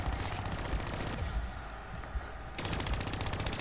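Rapid automatic gunfire from a turret in Call of Duty Black Ops 3's Dead Ops arcade mode, a dense continuous rattle of shots that briefly thins mid-clip before resuming at full intensity.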